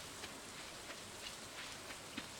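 Soft, steady rain in a Stardew Valley cutscene, a faint even hiss with a few light drops standing out, no voices.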